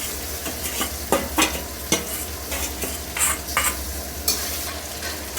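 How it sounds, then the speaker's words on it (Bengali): Onion, ginger, garlic and spices stir-fried in a pan for a meat dish, a steady close sizzle broken by repeated scraping strokes of a spatula at an uneven rhythm, with no voices. "তো এবার মশলাগুলো খুব সুন্দর করে কষিয়ে নিই"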